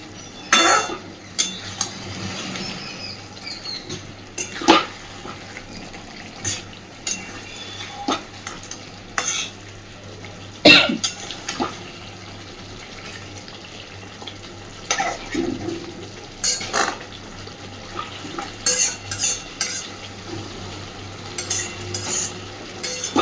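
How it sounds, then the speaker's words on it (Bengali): Pieces of pangas fish being stirred with spices and a little water in a pan, giving repeated scraping stir strokes over a low, steady sizzle, close and moderately loud, with no talking. "ভালোভাবে মাছগুলোকে মিশিয়ে দিয়েছি মশলার সাথে"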